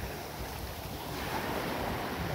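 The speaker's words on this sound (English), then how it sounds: "let the waves come up, and wash stuff around" Ocean waves washing up on Blind Pass Beach in Florida, a constant broad surf wash with wind noise, steady and moderately loud with no talking.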